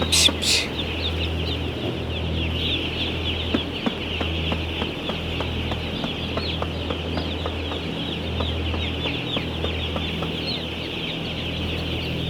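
Chickens cluck continuously in a busy flock, with a steady low mechanical hum underneath and a brief squawk at the start.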